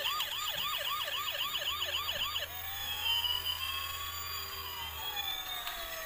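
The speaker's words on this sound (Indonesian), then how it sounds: "Bunyinya sirine polisi. Kenceng banget" A blue toy police car's loud electronic siren warbles rapidly, then switches to a slower rising and falling wail, close and continuous.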